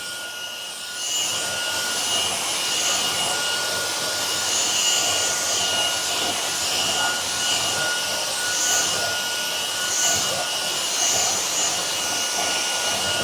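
A Kenmore handheld cordless vacuum with a crevice tool attached runs on its high setting, giving a continuous loud whirring whine with a steady airy hiss throughout.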